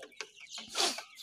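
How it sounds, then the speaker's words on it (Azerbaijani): Kuchinskaya Yubileynaya chickens and chicks clucking close by, with a few short calls and one louder, longer squawk near the middle; no one speaks. "ekranda görürsünüz yuxarıda balaca cücələrimiz"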